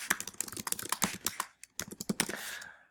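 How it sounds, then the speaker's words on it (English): Rapid clicking of computer keys, a burst of steady typing with brief pauses, close and moderately loud, no talking. "So when I start typing"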